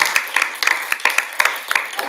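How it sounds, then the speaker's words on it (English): Audience at a climate justice town hall clapping for a panel: close, scattered individual claps in an uneven rhythm, brief and fairly loud. "Y'all give a warm welcome and round of applause for our panel."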